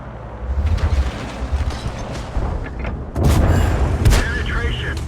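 Tank cannon shots in the World of Tanks video game, heavy booming blasts landing near the middle and end under a player's ongoing commentary.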